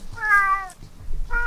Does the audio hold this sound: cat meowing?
yes